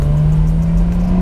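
A 2020 Porsche 911 Carrera S cabriolet of the 992 generation, its engine a loud, steady, close drone held at an even pitch for the whole short stretch.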